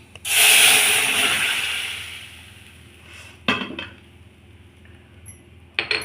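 Shredded cabbage is tipped into a pan of cooked moong dal with a loud, rushing scrape and rustle that swells and slowly fades over a few seconds, followed by two sharp knocks of a utensil against the pan.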